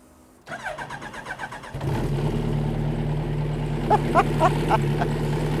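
A Westfield sports car engine with a loud exhaust cranks with a rapid rhythmic whir, then catches and settles into a loud, steady rumbling idle close by.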